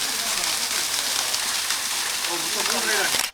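Steady broadband rush of water flowing at Kuttupatti waterfalls near Madurai, loud and continuous throughout, with faint voices rising briefly near the end.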